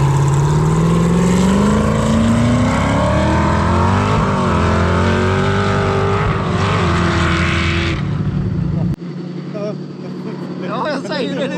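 A race car in an Ultra4 Europe off-road event roars loudly and close, its engine note climbing steadily through the gears before cutting off abruptly, with commentators talking over it.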